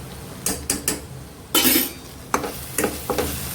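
Tomatoes with turmeric are stirred in a pan for prawn gravy, with a soft sizzle beneath scattered scraping and tapping of a spoon against the pan, close and moderately quiet.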